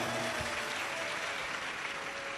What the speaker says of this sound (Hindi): एक बार बेटी के लिए जोरदार ताली बजाओ।